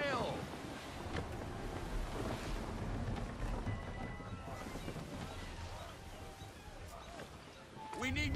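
Steady wind and rushing sea noise while sailing a ship in the video game Assassin's Creed 3, a constant broadband roar with wave wash, loud and continuous throughout with a slight swell near the end.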